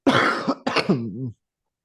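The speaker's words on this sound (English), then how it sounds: "As he coughs again." A harsh cough followed by a second throaty cough that trails into a short groaning vocal sound, then silence.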